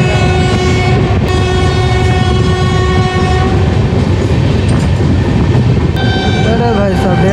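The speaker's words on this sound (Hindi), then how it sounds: "इस ट्रैक पे और एक कोई ट्रेन आ रही है," A second train rushes past on the adjacent track beside a Samta Express running at speed, loud and close, with a steady rumble of wagons, rail clatter and a long sustained horn tone through most of the pass.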